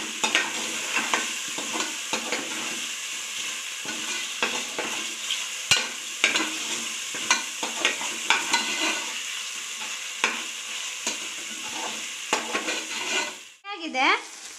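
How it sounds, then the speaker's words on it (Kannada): Onions sizzle in a hot pan while a spoon stirs and scrapes them repeatedly, the steady frying hiss running close and fairly loud under repeated stirring clatter, with a sharper burst at the end. "ಈರುಳ್ಳಿ ಹಾಕೋತಾ ಇದ್ದೀನಿ ಚೆನ್ನಾಗಿ ಫ್ರೈ ಮಾಡ್ಕೊಳ್ಳೋಣ"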